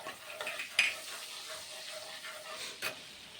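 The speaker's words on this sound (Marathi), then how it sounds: "तो आता खडा मसाला मी त्याच्यामध्ये टाकून घेणार आहे अक्का" Whole spices, among them star anise, mace, green cardamom, cloves and peppercorns, fry in hot oil in a pan with a soft, quiet sizzle and a few faint stirring clinks.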